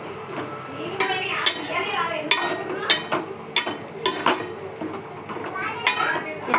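Ginger paste with turmeric is stirred in a pan, metal spoon scraping and clinking repeatedly against the pan in an uneven rhythm, with faint children's voices in the background.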